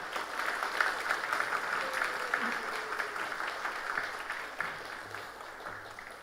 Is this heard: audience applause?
yes